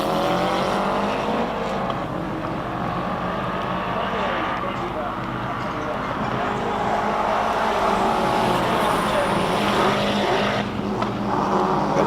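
A Mitsubishi Conquest race car climbs the Simola hillclimb course at speed, its engine loud and sustained with rising and falling revs as it passes, while a commentator talks over it.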